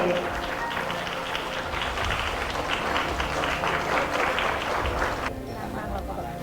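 Guests applaud the bride and groom as they enter a Chinese-style Thai engagement tea ceremony. The clapping is dense and steady from a sizeable crowd and eases slightly near the end, with murmuring underneath.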